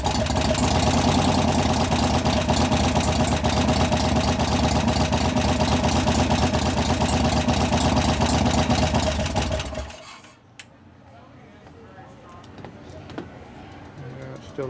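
A 1988 Harley-Davidson FXR engine with noisy hydraulic lifters runs loud and steady up close with a dense mechanical clatter, then shuts off abruptly, leaving quiet room tone and small clicks.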